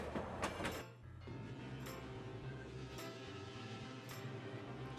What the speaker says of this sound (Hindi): ट्रेन, रेलगाड़ी में तो सबसे ज्यादा लोग इधर से उधर जा सकते हैं।